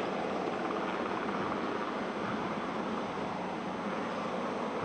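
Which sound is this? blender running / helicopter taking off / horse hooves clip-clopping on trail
helicopter taking off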